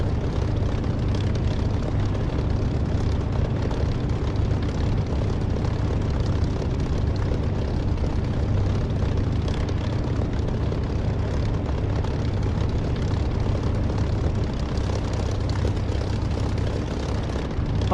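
Spitfire propeller engine in the DCS flight simulator idling and taxiing on grass, a steady, loud, droning rumble with low throbbing tones that holds unbroken and alone for the whole stretch.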